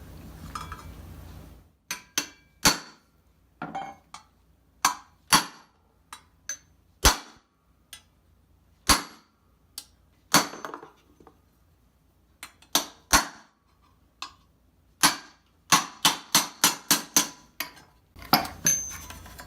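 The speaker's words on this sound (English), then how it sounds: "And we're going to chisel that center part out" Chiseling out the center of a wood block for armor work produces a series of sharp, hard strikes, irregular at first and then in quick clusters, loud and close with quiet gaps between.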